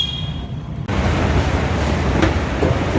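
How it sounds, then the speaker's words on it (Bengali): A metro train pulls into a station, its heavy rumble swelling abruptly after a quieter moment and then holding as a loud, steady roar with faint clanks. "অপরের দিকে মেট্রো এসে গেছে"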